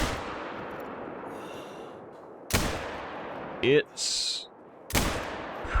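Shots from a .243 rifle in the hunting video game theHunter: Call of the Wild: three sharp, loud reports roughly spaced over a few seconds, each trailing off, with a brief word of speech and a short game sound between them.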